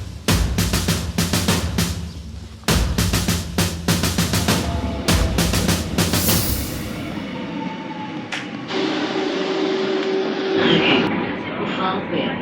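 Rumbling train noise with rhythmic clatter at a station, broad and fairly loud, then a quieter hum with a faint tone near the end.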